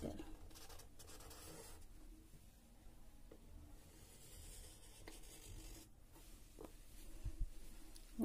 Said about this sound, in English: draw a circle with bangle on your sketchbook